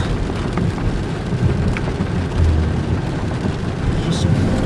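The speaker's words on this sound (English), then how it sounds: "Just thunder, lightning, hot and cold fronts meeting at a high pressure, low pressure." Steady rain falling outdoors during a thunderstorm while someone walks about, a dense continuous hiss with a low rumbling undertone of distant thunder throughout.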